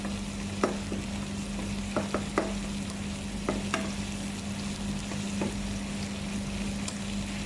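Garlic sautéing in a pan for beef steak: a steady, close sizzle over a low constant hum, broken by a few sharp taps and scrapes of a utensil stirring against the pan, with no talking.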